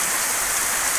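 Steady rain falls at an outer Baduy village, a dense even hiss of drops on surfaces, close and constant for about a second with no voices.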